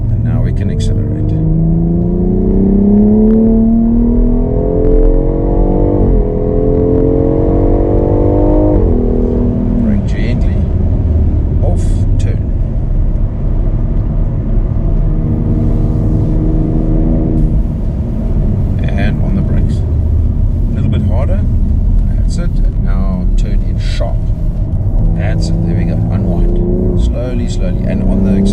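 An F97 BMW X3 M Competition accelerating hard around Kyalami Circuit, South Africa, its engine climbing through rising revs and gear changes, loud and close from inside the cabin while someone talks throughout.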